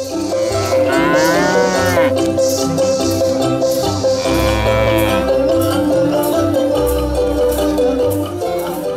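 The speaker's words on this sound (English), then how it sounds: "more commonly known as the Ankole cows" Ankole cattle with exceptionally long horns, filmed in the Kitara region, moo loudly in repeated long, deep calls close to the microphone, with several animals overlapping.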